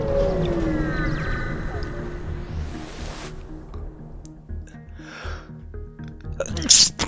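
A sneeze bursts out near the end, sharp and loud, following game sounds and tones from the FTL spaceship strategy game with sweeping synth noises underneath.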